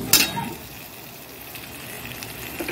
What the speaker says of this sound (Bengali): আলুগুলো ঢেকে ঢেকে এরকম ভাজবো, তাহলে নরম হয়ে যাবে।